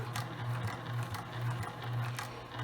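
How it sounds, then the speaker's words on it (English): A home sewing machine back stitching the end of a fabric face mask, a steady close motor whir with a low hum and faint needle ticking, running continuously without talk. "I'm going to back stitch to secure the stitch"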